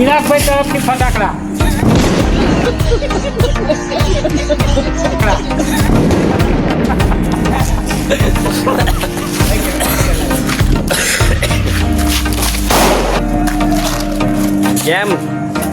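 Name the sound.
Diwali firecrackers bursting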